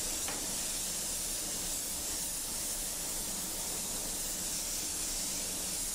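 Airbrush spraying Auto Air Colors 4100 Series paint, a continuous even hiss that holds steady throughout, close and alone.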